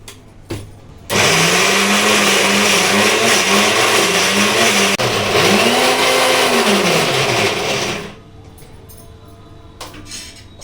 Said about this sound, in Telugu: ఇలా గ్రైండ్ చేసుకొని ఒక గిన్నెలో తీసి పెట్టుకోవాలి